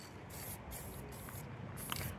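A spray paint can lays a tack coat on a service truck in windy conditions, hissing in four separate bursts of about half a second each, close and fairly quiet.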